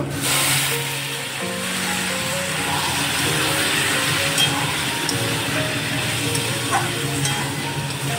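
Water poured into a pan of sizzling spices and potatoes, a continuous dense frying hiss with low rumbling bubbling throughout, no voices.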